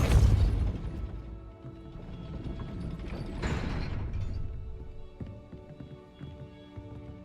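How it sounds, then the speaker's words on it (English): A gate mechanism in a Hogwarts video game grinds and clanks with ratcheting, gear-like knocks after a Depulso spell, a heavy opening thud followed by a rolling mechanical rattle that fades out, with no talk. "That looks as if it might raise the gate."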